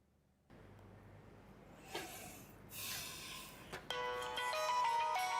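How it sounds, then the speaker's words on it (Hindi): A phone ringtone starts up partway through a quiet breakfast at home in the morning, its repeating electronic melody chiming clearly over faint room noise and a soft breathy rustle just before it. "किसका फोन आ गया है सुबह सुबह?"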